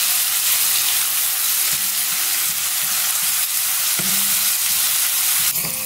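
Ginger, garlic and curry leaves frying in oil for a turkey curry, a dense steady hiss of sizzling oil close up, with a few faint spoon taps and no talking.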